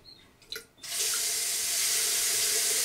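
Hot water gushes steadily from a faucet after a few quiet clicks of turning on the supply, a loud, continuous hiss that holds until the end.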